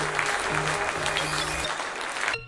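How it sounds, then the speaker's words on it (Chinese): Applause sound effect from the Plants vs. Zombies video game: dense, even clapping at moderate volume for about two seconds, then abruptly cut off. "大家给他鼓掌"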